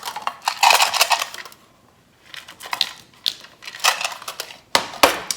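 Mini tarot cards are handled and shuffled in several sharp, crisp bursts of flicking and rustling separated by short pauses, with no one talking.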